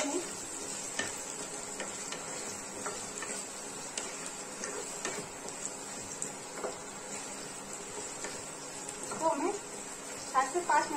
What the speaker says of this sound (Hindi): आलू को हम ऐसे मसाले को सारी सब्जियों को चलाते रहेंगे जिससे हमारी सब्जियां नीचे लगे नहीं